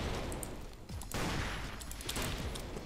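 Rapid gunfire from a blocky first-person shooter game, Ace of Spades, in dense overlapping bursts with a brief pause before the shooting resumes, loud and without talk.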